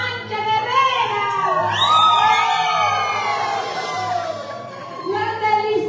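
A group of people shout a loud collective cheer together, sustained whooping and yelling voices swelling and fading over a few seconds with a steady rhythmic beat beneath.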